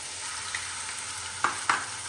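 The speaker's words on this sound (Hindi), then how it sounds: "और 1 टेबल स्पून ही अदरक पेस्ट डाल देंगे और इसको अच्छी तरह से भून लेंगे।" Onion fries with garlic and ginger paste in a pan, giving a faint, steady low sizzle with a couple of brief scraping stirs near the end.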